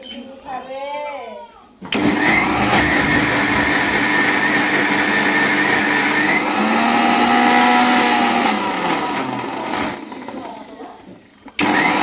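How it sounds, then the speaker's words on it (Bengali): An electric kitchen blender grinds cumin seeds for a Qurbani spice mix, a loud steady whirring motor drone that runs for about ten seconds and shifts pitch slightly as the load changes, with brief speech before and after. "এখানে জিরে দিয়েছি ব্লেন্ডারে ব্লেন্ড করার জন্য।"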